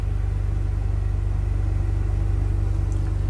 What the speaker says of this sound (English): right now I'm pulled over on the side of the road here, waiting for all these trucks